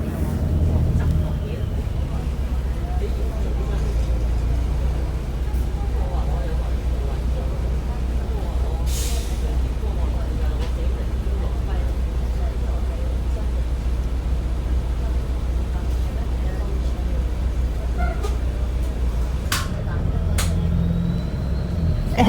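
A KMB bus on route 82K (RG2991) rumbles slowly through a car park gate toward the Sha Tin Wai Estate terminus, a steady low engine drone with faint hiss and brief clanks, heard under someone talking.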